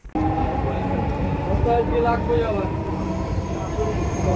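A Dhaka metro rail train runs with a steady, close rumble and a faint tonal whine that holds for the whole stretch after starting abruptly.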